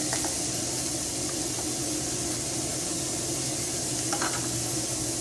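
Onion and ginger hit hot oil with a loud, continuous hissing sizzle, close by, with a couple of brief stirring clicks.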